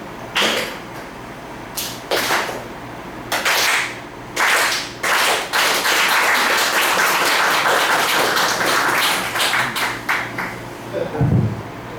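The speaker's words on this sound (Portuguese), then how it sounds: "Quando eu completar final do movimento, vocês batem as palmas, ok?" An audience at a technical railway lecture claps in bursts of sharp, rhythmic hand claps, several pauses between rounds, then a sustained stretch of dense applause fading into murmured talk.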